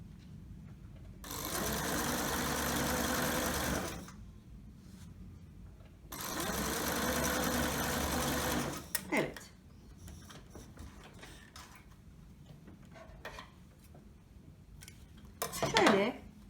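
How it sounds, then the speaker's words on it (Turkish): A sewing machine stitches patchwork cushion fabric in two steady, loud runs of whirring several seconds long, separated by a pause, followed by lighter handling clatter and a brief voice. "Bir makine ayağı makine çekme işlemine devam edeceğim."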